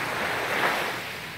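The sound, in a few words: Andaman Sea waves at Patong beach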